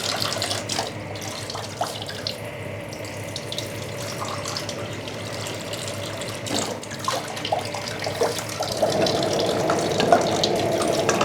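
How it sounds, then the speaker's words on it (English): Water runs steadily from a tap into a cooking pot for coconut plantain, a continuous splashing stream that grows fuller and louder toward the end as the pot fills. "And you add a bit more water."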